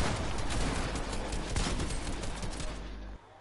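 Sustained rapid gunfire in a tactical team shooter match, loud and dense for about three seconds with overlapping bursts, then cutting off abruptly near the end.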